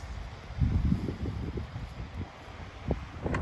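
Wind blowing outdoors on open land in Finland, a gusty low rumble buffeting the microphone for a few seconds, louder in the middle and steady throughout.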